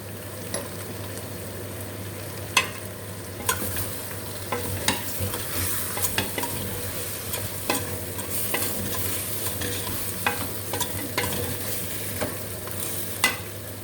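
Carrots and potatoes sautéed in a pot, a steady low sizzle under repeated clicks and scrapes of a spoon stirring against the metal.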